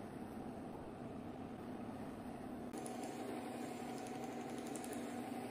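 A buffing wheel spins against a limba guitar body on the fine side, giving a faint, steady motorized whir with a slight shift in tone partway through.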